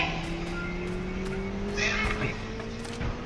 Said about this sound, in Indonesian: Ada suara mobil teman-teman.